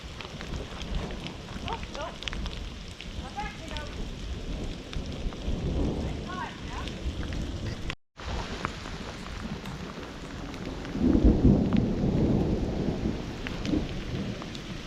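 Monsoon thunderstorm at about 10,000 feet, with steady heavy rain hissing throughout and rolling thunder rumbling, growing louder near the end; brief bird-like chirps early on.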